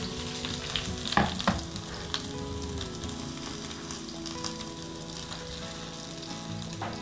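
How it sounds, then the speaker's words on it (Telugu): Onions fry in a pan as the base for a mutton curry with coconut milk and raw mango, producing a steady close sizzle with a few sharper stirring clatters near the start. "అందుకని ఇట్లా ఆనియన్స్ వేసి ఫ్రై చేసుకోవాలి."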